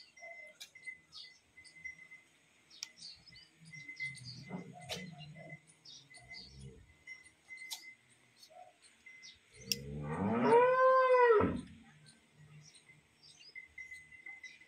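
Cholistani Friesian cross cow lowing once, a single drawn-out moo of about two seconds rising midway through an otherwise quiet outdoor scene with faint bird chirps and ticking sounds around it.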